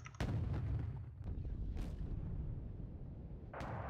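Mortar fire in a tank video game: a heavy boom followed by a long rumbling tail, then a sharper blast near the end, all loud and continuous with no talk.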